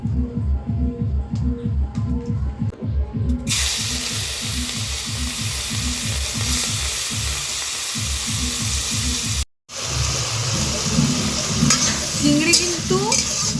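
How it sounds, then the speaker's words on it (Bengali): Prawns with turmeric and salt hiss and sizzle loudly in oil in a hot wok, a steady crackling spatter that swells as they hit the wok, with stirring scrapes beneath. "কড়াই গরম হয়ে গেছে চিংড়িটা ভেজে নেব"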